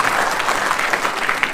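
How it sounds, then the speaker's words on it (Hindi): Steady audience applause at a village gathering in India, a dense wash of many hands clapping at close range with no speech over it. "ताली बजा सकते हैं ना नीरज भाई के लिए।"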